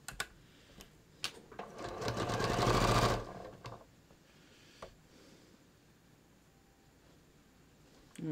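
A sewing machine stitches the inseam of ready-to-wear pants in one steady run of fast needle clatter, rising and then stopping after about a second, with quiet handling clicks before and after.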